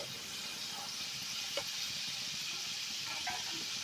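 Potato strips fry in hot oil for French fries with a faint, steady sizzle and a couple of soft clinks and stirring sounds.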